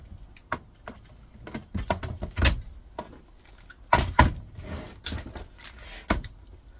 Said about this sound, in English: Snip the wires.